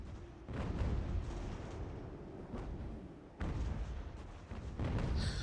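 Cannons fire canister shot in the Ultimate General: American Revolution video game, heavy booms rolling into one another in a continuous battlefield din with several sharp onsets.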